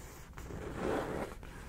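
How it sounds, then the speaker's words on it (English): A rose gold zipper slides along a marbled makeup bag, a single soft, close zipping rasp heard quietly with no speech. "With a rose gold zipper."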